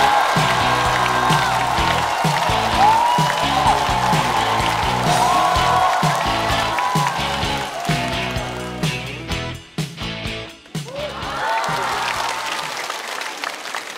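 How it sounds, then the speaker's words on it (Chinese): A stand-up comedy contest audience applauds and cheers as a comedian is welcomed to the stage. The thick clapping runs over upbeat walk-on music, thins to scattered claps, then briefly swells again before fading out. "掌声欢迎杨波"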